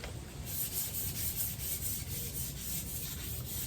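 Sandpaper rubs lightly over an old 1960s stained wood surface in quick back-and-forth strokes, a soft, close, rhythmic scratching with no voices.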